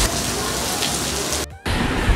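Heavy rain pours steadily in Karachi, a dense continuous wash of drops hitting surfaces, loud and close, broken by a brief near-silent gap before the downpour resumes.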